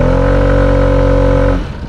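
A Piaggio Vespa VXL150 scooter engine gives a steady, smooth mid-pitched hum that holds constant, then cuts off abruptly near the end, leaving faint low rumble.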